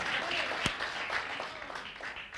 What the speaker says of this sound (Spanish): ¿Cuántos aplauden al Señor y dicen amén por eso?